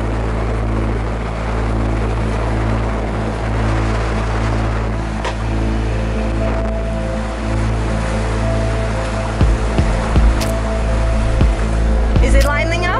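Breaking waves on the Yamba bar entrance under a 2 metre easterly swell roar steadily around a boat making the crossing, with a low engine drone beneath and wind buffeting the microphone near the end.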